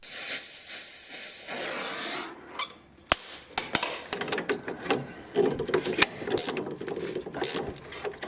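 Torch hissing steadily while heating a seized strut nut on a 2007 Chevy Equinox, then the hiss cuts out and gives way to scattered metallic clicks, ratcheting and clanks of work on the nut up close.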